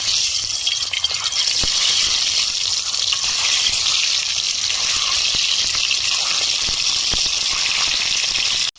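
Beaten egg seasoned with salt poured into hot oil in a pan, giving a steady loud sizzling hiss that continues unbroken with no talk.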